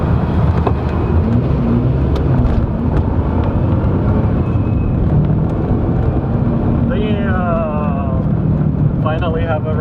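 A right-hand drive car on the move with its windows shut, giving a loud, steady rumble of engine and road noise up close. A voice cuts in briefly near the end.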